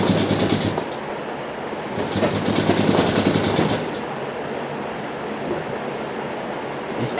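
A sewing machine stitches the back pocket of a pair of pants, running in one continuous, close and loud dense rattle that swells slightly midway, with no voices.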